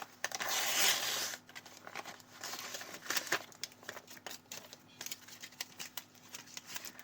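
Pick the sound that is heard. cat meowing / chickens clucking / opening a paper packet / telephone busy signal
opening a paper packet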